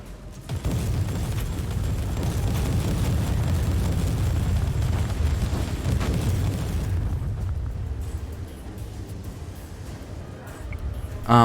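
Exploding shells fired from a Tarantula turret in Warhammer 40,000: Inquisitor, a dense run of overlapping booms and bursts with a low rumble that rolls on steadily for several seconds before thinning out, with a sharp blast at the end.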